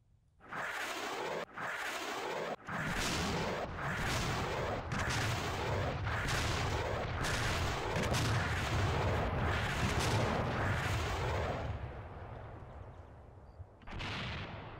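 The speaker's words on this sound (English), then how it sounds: "Burst fire." Burst fire from a weapon in the military game Arma 2, each trigger pull loosing a rapid burst of about ten shots; roughly ten loud, sharp bursts come back to back, then a pause before one more.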